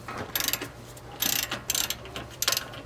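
A hand ratchet tightens 3/4-inch bolts on a Beaver Dam long-tail mud motor kit, giving several short bursts of close, crisp clicking separated by brief pauses, with no talk.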